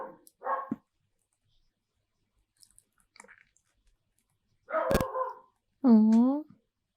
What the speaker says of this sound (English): she won't stop barking.